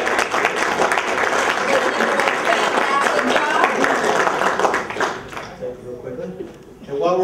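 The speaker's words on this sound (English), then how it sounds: "A round of applause for Mr." An audience at a career shadowing day event claps in sustained, dense applause for about five seconds, then it fades as a voice begins talking.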